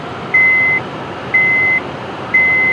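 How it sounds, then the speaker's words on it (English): A 2007 Honda Civic gives three evenly spaced electronic beeps in a steady on-off rhythm after the key is turned to position two. The beeps are clear and close against a quiet interior. "Let it finish beeping"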